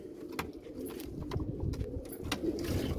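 Basrawi pigeons coo softly in a rooftop loft, low repeated murmuring calls with faint clicks and rustles, steady and fairly close, with no talking.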